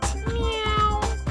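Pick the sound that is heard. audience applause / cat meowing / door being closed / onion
cat meowing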